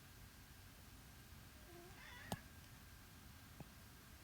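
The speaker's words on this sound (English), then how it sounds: "That is my cat." A house cat gives one short, soft meow from across a quiet indoor room, followed a moment later by a faint click.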